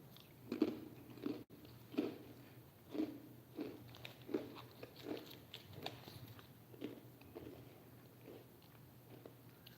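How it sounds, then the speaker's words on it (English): Crackers being eaten up close, with a series of crisp crunching bites and chewing at a roughly even rhythm, quiet and alone, fading slightly toward the end. "Let me eat my crackers."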